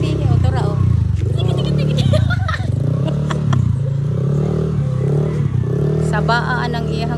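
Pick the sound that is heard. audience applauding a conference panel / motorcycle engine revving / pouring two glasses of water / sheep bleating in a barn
motorcycle engine revving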